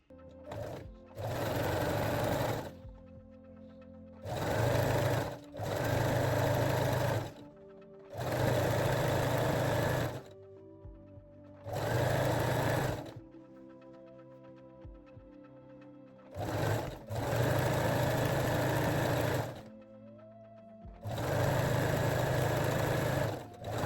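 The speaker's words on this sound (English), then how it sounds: "set your machine to zigzag or 3-step zigzag stitch and finish the waistline" A sewing machine zigzag-stitches fold-over elastic onto the waistband of high-waist panties, running in six loud, steady bursts of a few seconds each, separated by short pauses.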